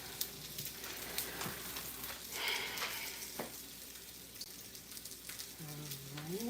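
Salmon fries in a pan as its skin crisps, giving a soft, steady sizzle with faint crackles, low in level and without speech.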